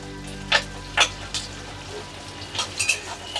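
Onions frying in a pan for a home-cooked potato dish, with a soft steady sizzle and a few brief brighter spatters and stirring clinks, close and moderately quiet with no talking.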